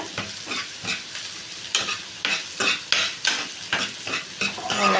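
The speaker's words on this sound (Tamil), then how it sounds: "எல்லா வெங்காயத்தையும் கொட்டியாச்சு கொட்டிட்டு நல்லா வணக்கி விட்டுக்கலாம்" Chopped onions sauté in hot oil in a pan, a soft steady sizzle broken by repeated rhythmic scraping stir strokes of a spoon, close and fairly quiet.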